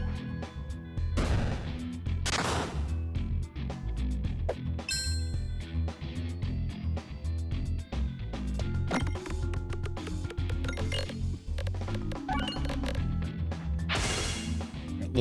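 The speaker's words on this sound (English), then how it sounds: "Let's light some bombs off." Bombs go off in the pachinko-style game Peglin, a busy run of sharp crashes and bursts with bright pings and dings from pegs scattered between them, loud and continuous, with no talk.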